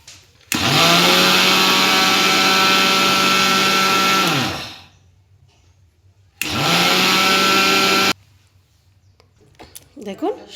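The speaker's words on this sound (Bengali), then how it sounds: "এই সুজিটাকে আমরা মিক্সারে একটু প্রথমে ডাস্ট করে নেব" A kitchen mixer grinder whirs loudly as it grinds semolina into powder, with one long burst that winds down, a pause, then a second shorter burst that cuts off sharply.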